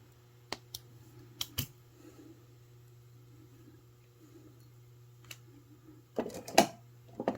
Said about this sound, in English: I'm going to take my cutters and cut off my extra wire.